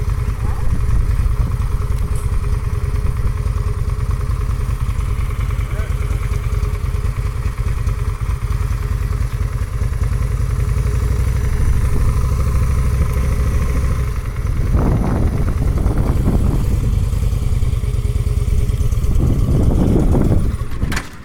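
A motorcycle engine runs steadily as a first-time rider tries it, a loud, close, continuous low rumble with voices breaking in briefly near the end.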